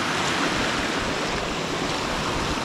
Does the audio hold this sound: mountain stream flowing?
yes